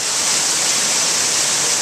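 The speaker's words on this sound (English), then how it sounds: "The bottom of Waterfall 1" A waterfall near Olympiada, Greece, heard from the bottom of the falls: a close, loud, unbroken roar of rushing water that stays steady throughout, with no voices.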